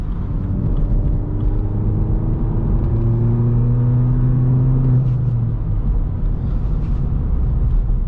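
A straight-piped BMW 1 Series drones steadily from the exhaust while driving, a loud continuous rumble with pitch shifting slowly as revs rise and settle, no voices.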